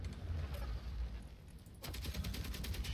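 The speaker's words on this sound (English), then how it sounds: "That's where you're shooting there, Texas." Rapid gunfire rattles in the Space Engineers video game, a dense burst of shots starting partway through and continuing steadily to the end over a rumbling low background.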